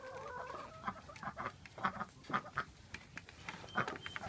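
Farm chickens cluck steadily, with soft rhythmic calls close by and a few louder squawks mixed in, heard alone at low volume.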